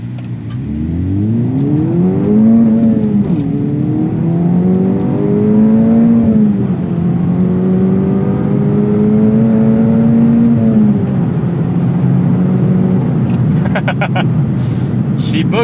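A 2024 Acura Integra Type S accelerates hard through the gears, its engine note rising in long sweeping pulls with a brief shift dip, exhaust crackles popping near the end, loud and close with a voice talking over it.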